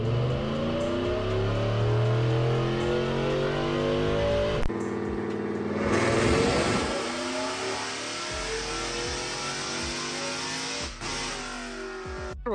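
A supercharged, cammed Chevrolet Silverado pickup on a dyno revs hard in fourth gear, its engine note climbing and rising in pitch, then cutting off abruptly and whirring down as the rollers spin.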